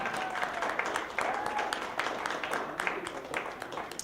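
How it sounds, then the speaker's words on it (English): Applause from an audience at a community college talent show, a steady wash of many hands clapping at moderate volume with no clear speech on top, sustained evenly across the moment. "Let's give a round of applause to the Solid Community College Staff Association that put this event on."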